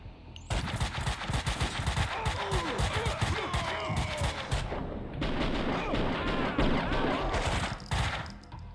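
Max Payne 2 video game shootout: dense bursts of rapid gunfire and machine-gun rattle, loud and close, with a short break near the middle before the shooting resumes. A voice is faintly heard underneath.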